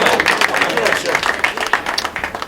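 Snooker crowd at a Solihull match applauding a pot, a short, dense burst of clapping heard close, with commentators talking over it.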